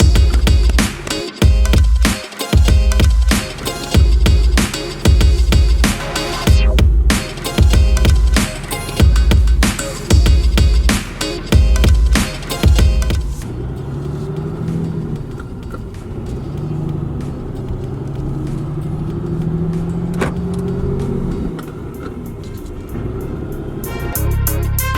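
Cummins diesel truck driving around, its engine rumbling in repeated revving surges for the first half, then settling into a steady, lower drone as it rolls along.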